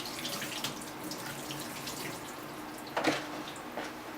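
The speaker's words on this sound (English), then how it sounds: "Rinse off the blade." A freshly honed paper blade rinsed under running water at a sink after sharpening on water stones, a steady close hiss of flowing water with a brief louder splash near the end.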